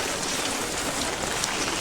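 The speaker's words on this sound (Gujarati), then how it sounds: "જોઈ શકો છો કેવો વરસાદ પડે છે" Heavy monsoon rain pours down in Bhavnagar as heard from an open rooftop terrace, a dense, continuous hiss of drops drumming on surfaces, loud and unbroken throughout.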